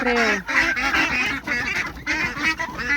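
Several ducks kept in a rice-field farmyard quack and honk loudly and close by in repeated overlapping bursts, with no talk.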